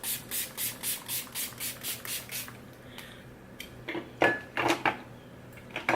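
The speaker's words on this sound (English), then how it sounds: "So before I do my actual highlighter, I will spray my face." Close bursts of setting spray misted onto a face hiss in a quick run of about a dozen puffs, then a few scattered rubbing and handling sounds follow.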